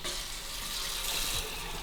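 Near-scalding hot water running steadily from a tap, a continuous even rushing hiss close by with no talk over it.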